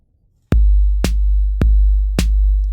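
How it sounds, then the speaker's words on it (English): A BandLab drum machine beat plays alone and loud, with four evenly spaced sharp hits carrying a snare on beats 2 and 4 over a deep, booming low thump and faint steady tones. "I'm going to put a snare drum in on beat 2 and beat 4."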